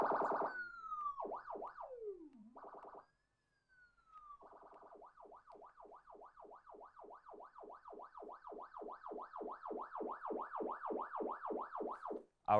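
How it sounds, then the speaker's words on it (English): An NYPD police siren cycles through several modes: a few slow rising and falling wails, a brief pause, then a long run of rapid, evenly pulsing yelps that grow slightly louder, clear and alone with no voices. "these are basically 3 modes of the Nypd Siren"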